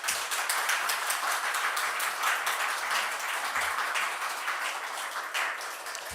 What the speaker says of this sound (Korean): 목사님 나오실 때 큰 박수로 환영했으면 좋겠습니다.